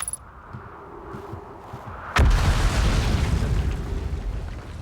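A sudden loud explosion erupts in the video game Outer Wilds, a sharp booming burst after a quieter ambient stretch, followed by a sustained rumbling roar that lingers to the end.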